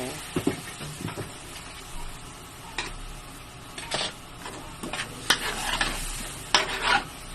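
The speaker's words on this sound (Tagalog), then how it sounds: "Halo lang para matunaw lang yung peanut butter." A spoon stirring kare-kare in a pot to melt in peanut butter, with irregular scraping and knocking strokes over a soft simmering sizzle, sounding close and moderately loud.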